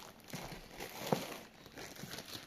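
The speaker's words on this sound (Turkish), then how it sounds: "Ah tüh poşeti yırttık" Soft, close crinkling of a plastic bag with a brief tearing crackle in the middle as it rips, quiet and with no talking.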